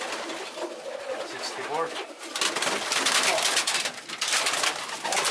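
Racing pigeons cooing in a loft, soft murmuring calls blended with rustling and flapping noise, while people talk nearby.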